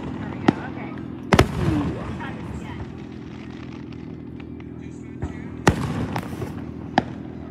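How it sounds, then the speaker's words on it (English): Small fireworks pop outdoors on Independence Day as a few sharp cracks spaced several seconds apart, some close and loud, with voices chatting between the bangs. "I hear some little fireworks going off."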